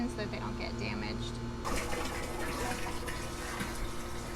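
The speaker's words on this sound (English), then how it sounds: "fill it about halfway with water" Water runs from a hose into the empty tank of a pool sand filter, a steady rushing pour that grows fuller partway through, with faint background noise alongside.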